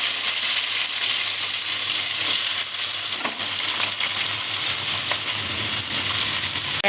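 Potatoes dropped into hot oil already crackling with dried red chilli and panch phoron, a loud, dense, continuous sizzle and spitting hiss close up, with a few brief clatters and no voices.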